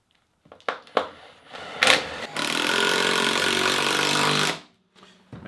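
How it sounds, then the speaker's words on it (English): A Ridgid 12V palm impact driver drives 1 5/8 inch alkali-resistant screws into cement board. A few short taps come first, then one loud, steady, hammering whir of about two and a half seconds that stops abruptly. "So we're going to be putting in 1 5/8 inch alkali-resistant screws here."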